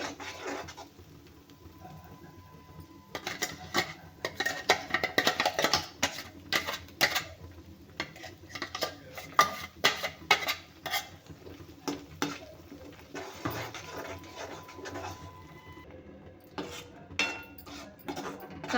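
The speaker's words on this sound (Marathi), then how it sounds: "आपल्याला मसाला छान तेल सुटेपर्यंत भाजून घ्यायचा आहे" Masala roasting in oil in a pan for dum aloo, with a spoon clattering and scraping against the metal in quick irregular bursts, close and fairly loud, continuing throughout.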